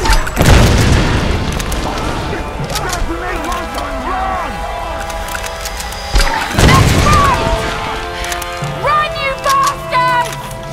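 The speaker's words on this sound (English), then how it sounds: "Where'd she get a fucking grenade launcher?" Grenade launcher blasts in the Tomb Raider video game, two heavy booming explosions several seconds apart, loud and close, mixed with combat clatter and someone talking throughout.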